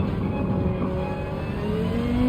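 Audi RS5 Turbo DTM race car engine in Gran Turismo 7 on the Nürburgring, a steady mid-pitched engine drone with gear changes, its pitch rising toward the end, heard alone at moderate loudness.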